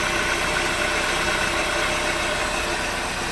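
A car engine idles steadily while warming up, smoking from oil spread across the motor, a constant loud mechanical rumble with an even hiss and no talking.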